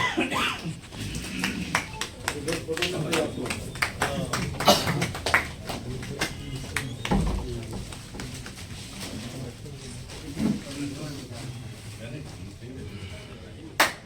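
Scattered audience clapping at an Indian education department felicitation ceremony, uneven sharp claps in bursts over murmuring voices and background chatter.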